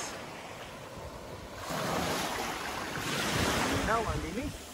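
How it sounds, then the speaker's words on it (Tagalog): Sea waves wash onto a Palawan beach, with a soft, continuous surf hiss that swells toward the end under wind buffeting the microphone. "So, yan yung dagat, guys."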